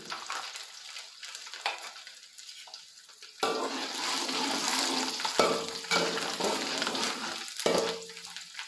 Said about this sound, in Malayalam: അപ്പോൾ ഇഞ്ചി നല്ലപോലെ ഒന്ന് മൂത്തു ഇനി അതിലേക്ക് വെളുത്തുള്ളി